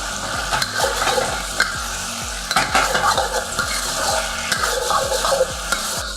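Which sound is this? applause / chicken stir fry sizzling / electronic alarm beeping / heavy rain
chicken stir fry sizzling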